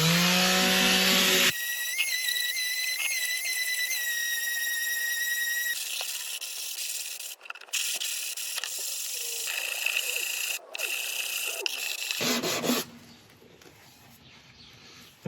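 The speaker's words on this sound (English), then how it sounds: "stick a couple of pieces of sandpaper to the surface of a board and then rub it backwards and forwards to get a nice flat surface" Sandpaper taped to a flat board being rubbed back and forth to flatten a woodturned bowl piece made from combined materials, a steady loud rasping scrape with high squealing tones, mostly continuous before it stops near the end.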